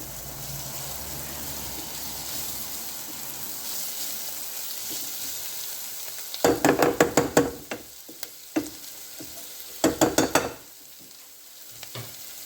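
Onions fry in a pan with curry powder, a soft continuous sizzle, then a spoon stirs and scrapes against the pan in two short, sharp bursts near the middle and end.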